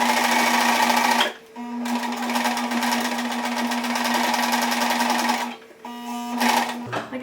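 A sewing machine stitches sequined fabric for mouse ears, whirring steadily at high speed with two brief pauses before starting up again.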